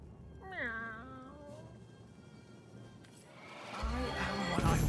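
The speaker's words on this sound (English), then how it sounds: "I am cat." A cat meows in the video game Divinity: Original Sin with a long, wavering, drawn-out cry, then a second yowl rising over louder game background sound.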